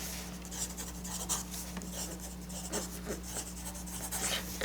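A pencil writes letters in a phonics workbook, giving soft, close scratching strokes in short irregular bursts over a faint steady hum.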